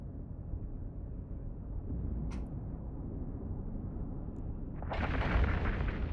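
Ship weapons fire barrage ammunition in the space game EVE Online over a constant dense rumble, with a short crack partway through and then a louder, harsher burst of firing near the end.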